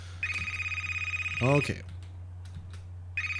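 A telephone rings in the horror video game Decarnation, two long electronic ring bursts with a pause between, under a short spoken word and steady background hum.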